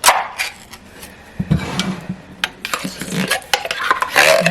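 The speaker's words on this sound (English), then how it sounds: "So then we're going to take the cream of mushroom. We're going to put that in our bowl." Cream of mushroom soup is scraped from a can into a bowl, giving close, wet scraping and clinking of a utensil against metal and the dish in quick, uneven strokes.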